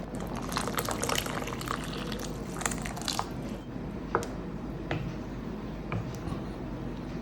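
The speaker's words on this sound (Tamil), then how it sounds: "நான் கொஞ்சோண்டு தண்ணி ஆட் பண்ணிக்கிறேன்" Water poured into a thick mohinga (Burmese atho) banana stem soup splashes for a few seconds, then gives way to softer squelching stirs and occasional spoon clinks as the mixture is blended, all close by.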